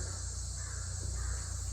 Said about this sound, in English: The crows are confirming.